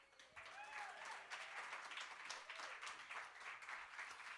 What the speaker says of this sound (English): Another round of applause for Ted